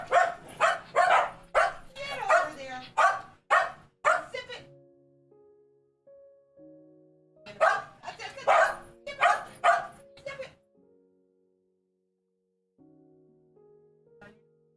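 A puppy waiting for a treat yips and barks in quick bursts with whimpering tones, two clusters of close, sharp vocalizations separated by quieter stretches with drawn-out whines.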